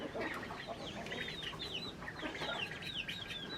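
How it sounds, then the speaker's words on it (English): A rooster chasing ducks around a farmyard, with repeated clucks and squawking calls from the fowl over a steady, busy outdoor background, fairly close and continuous throughout. "they're getting chased by a rooster"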